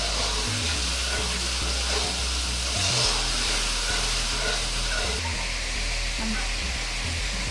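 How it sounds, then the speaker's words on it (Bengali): Boiled potatoes frying with spices in a pan for alur dom, giving a steady loud hiss and sizzle that holds throughout with little change. "আমি এখন সেদ্ধ করা আলুগুলো ছেড়ে দিব এবং ভালোভাবে এটাকে মশলার সাথে কষতে থাকবো।"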